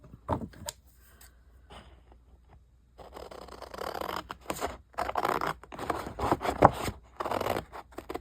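Scissors snip and scrape through paper for a travel journal, starting with a few faint cuts and then a steadier run of louder, close crisp slicing and rustling, with no talk.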